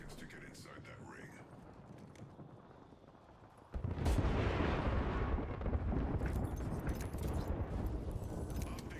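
Artillery strikes in a video game, heard as a heavy rumbling barrage that bursts in partway through and rolls on loudly over what came before, with a voice talking beneath it.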